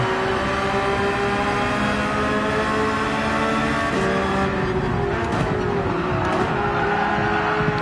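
A race car engine in Gran Turismo 7 drones loud and steady, dropping pitch on a downshift into third before climbing again under throttle, with no talk over it.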